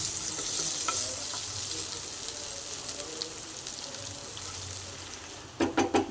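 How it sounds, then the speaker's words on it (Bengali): Sautéed potatoes sizzling in a hot pan, a steady frying hiss that thins out, followed near the end by a few loud splashy bursts as water goes in, close-up with no speech. "এবার এটির মধ্যে আমি জল দিয়ে দেবো।"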